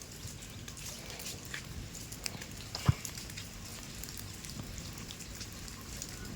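Rain patters in a village setting, a soft steady fall of drops with a few sharper knocks and a low background hiss, fairly faint and without speech.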